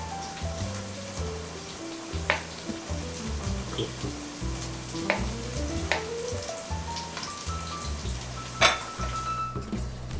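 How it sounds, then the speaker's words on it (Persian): Chopped onions frying over low heat in a pan for sausage bandari, a steady close sizzle with occasional clinks of a utensil against the pan and a melodic tone rising and falling underneath. "خب من پیازا رو الان ریختم، داره سرخ میشه"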